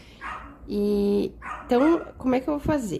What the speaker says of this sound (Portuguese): tem o cachorro da minha vizinha que tá coando